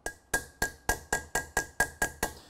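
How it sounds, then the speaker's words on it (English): Small hammer tapping a brake seal into a disc brake rotor, about nine sharp metallic ringing taps in a steady, evenly spaced rhythm, close and clear with no talking. "That's why I'm using a fairly small hammer."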